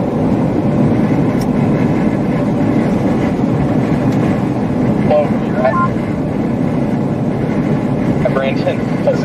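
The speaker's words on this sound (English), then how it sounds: "Like the headwind I have is off the charts." Strong storm wind under a shelf cloud in Montana roars as a dense, loud, continuous rumble buffeting close by, steady throughout, with a few faint tonal chirps over the top.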